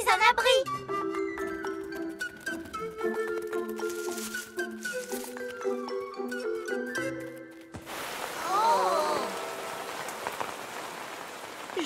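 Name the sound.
rain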